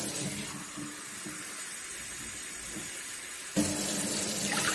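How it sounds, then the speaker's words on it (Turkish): Water pouring from a tap onto rice in a pot for Turkish rice pudding, a steady close rushing stream that grows louder and fuller near the end. "Şimdi üzerine 3 su bardağı su ekleyip pirinçlerimizi pişireceğiz."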